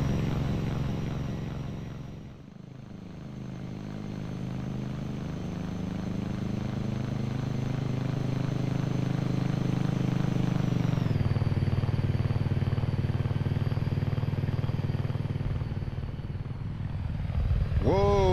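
A V-22 Osprey tiltrotor in the X-Plane 11 simulator drones with a steady, loud rotor and engine roar as it comes in to land, its pitch shifting partway through and dipping briefly near the start.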